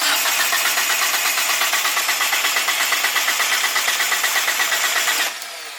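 Turbocharged Mitsubishi 1G GSX engine cranks with its coil packs pulled, producing a steady rhythmic starter churn that stays loud and close for about five seconds, then stops.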